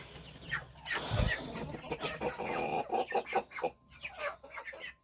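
Several young chickens cluck and murmur close by in irregular bursts, with soft rustling and shuffling around them; no one speaks.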